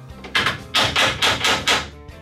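Hammer driving nails into a homemade DIY wooden shelf, with five sharp, loud strikes in an uneven rhythm and short pauses between them, heard up close with no talking.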